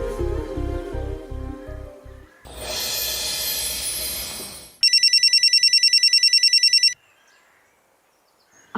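An electronic telephone bell rings in a rapid repeated burst for about two seconds, clear and close, in a Kannada TV serial scene, after music and a noisy stretch.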